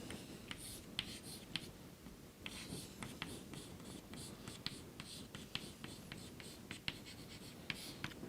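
A pen or chalk writes on a board during a mathematics lecture on limits of functions. The quiet scratches and taps come in irregular strokes, faint and close, with soft background noise.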